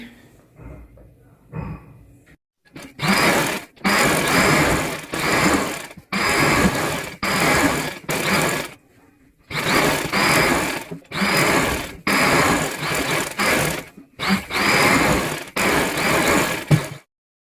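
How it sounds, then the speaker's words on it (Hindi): Sewing machine stitching the layers and frill of a sharara, loud close bursts of rapid whirring stitching, about eight runs of one to two seconds each separated by brief pauses. "दरमियान वाली सिलाई लगा लेते हैं"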